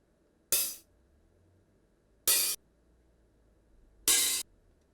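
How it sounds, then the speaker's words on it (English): Three separate open hi-hat hits from a drum module, evenly spaced and isolated, each a bright noisy wash that rings briefly before stopping, with quiet between. "It is an open hi-hat sound,"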